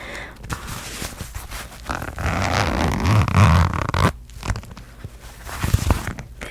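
A zipper on an Ipsy pouch holding a Rider-Waite tarot deck is drawn open up close, a long rasping pull followed by shorter scrapes and handling noises, with soft whispering in places.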